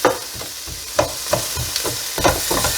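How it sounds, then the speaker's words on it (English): Chopped garlic, with onion, fries in a pan as the base for pumpkin soup, giving a soft steady sizzle broken by several scraping stirs. "we're gonna give this a little bit of a fry or saute if you want to be fancy"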